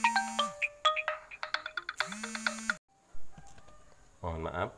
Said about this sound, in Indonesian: ada telepon yang masuk